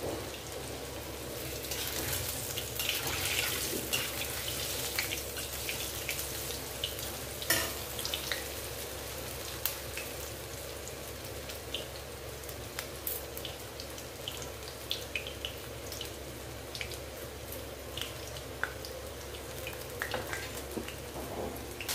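Crispy potato snack sticks deep frying in plenty of oil, a continuous bubbling sizzle that holds steady for a long stretch with occasional small pops, no talking.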